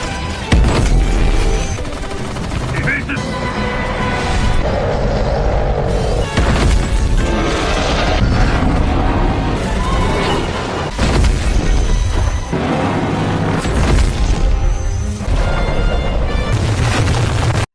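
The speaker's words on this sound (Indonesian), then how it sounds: "Lalu semua tim penembak sedang menembaki Godzilla itu." Gunfire and explosions as troops fire on Godzilla in a monster film: a dense, loud, continuous barrage of booms and blasts with heavy low rumble, thick layered bursts recurring throughout and no talk.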